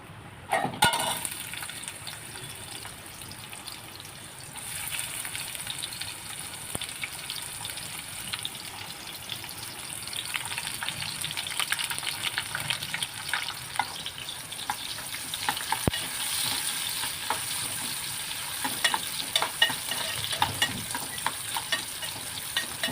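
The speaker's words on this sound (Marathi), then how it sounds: "आता कांद्याला तेलामध्ये चांगलं पलटून घेते कांदा लाल होईपर्यंत पलटून घ्यायचा आहे" Onions fry in hot oil and get turned over and over, a dense, steady sizzle heard close up with occasional stirring scrapes and small clinks throughout, with no speech.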